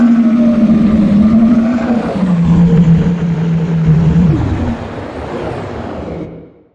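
A synthesized sci-fi vehicle engine drones loudly and steadily, its pitch stepping down midway as a control knob is turned, then fading out toward the end.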